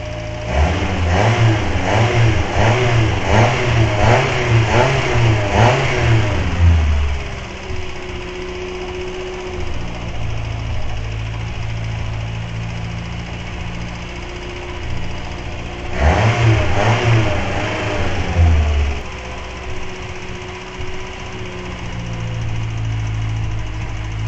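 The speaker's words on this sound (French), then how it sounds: "On y va en douceur et il faut utiliser des coups d'accélération." A car engine revs in repeated sharp bursts of acceleration while cleaning product is fed into it, then settles to a steady idle before another cluster of revs, loud and close, with no voices.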